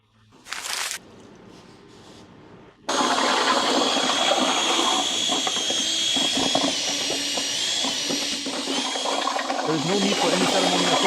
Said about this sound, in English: We simply take the container and pour it in, making sure to do so carefully and steadily.